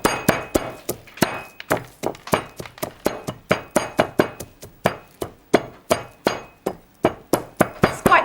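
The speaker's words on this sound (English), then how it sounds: "And what we need to do now is just crush them, not too finely, quite coarsely." Twenty peppercorns being crushed coarsely, sharp hard clinking strikes repeated at a steady rapid pace, loud and close with nothing else heard.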